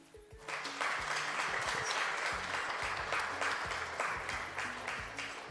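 A crowd bursts into sustained applause, steady clapping from many hands filling the space for several seconds.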